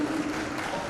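An audience at a musical Shri Ram Katha religious discourse claps together, giving a brief, steady wash of applause with a faint held musical tone behind it.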